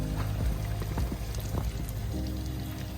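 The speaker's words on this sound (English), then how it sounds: "look at all that poopy water coming out." Dirty water from a worn-out plastic duck pool drains out in a soft, steady trickle and pour, faint and close, with no talking over it.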